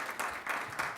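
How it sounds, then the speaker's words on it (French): Audience at a Saint-Raymond city council meeting applauds in a short, moderately quiet burst of clapping, with a few louder swells through the second. "ça vaut une bonne main d'applaudissement pour Étienne"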